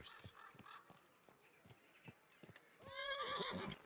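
Kingdom Come: Deliverance II: hooves clop in a steady rhythm, then a horse lets out a shrill whinny near the end, fairly quiet overall.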